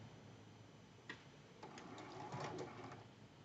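A home sewing machine stitches a seam on a Christmas tree quilt block, a quiet run of needle ticks and motor hum, starting and stopping in short bursts after a soft click, close and faint.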